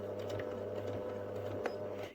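A sewing machine runs a short continuous stitch on a fabric bunny ear, a steady close mechanical hum and whir that stops abruptly after about two seconds.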